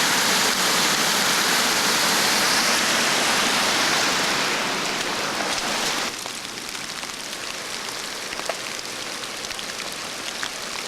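Muddy water pumped onto a property pours and splashes in a dense, rushing stream, loud and steady at first, then dropping noticeably in level partway through and continuing as a softer wash.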